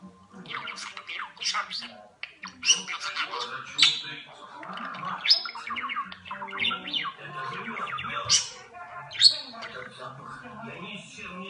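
A pet budgerigar in a training session chirps, chatters and squawks almost constantly and up close in busy, uneven bursts, with a person's voice at times in the background.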